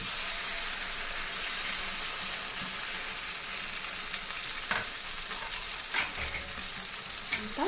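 Tomato pulp sizzles in a hot pan for tomato rice, a continuous bright frying hiss with occasional scrapes and clinks of a spoon stirring it, close and steady throughout with no voices.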